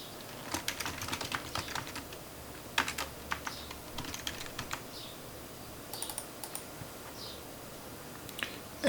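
A database query being typed on a computer keyboard, with quick irregular clusters of key clicks separated by short pauses, close and fairly quiet, without speech.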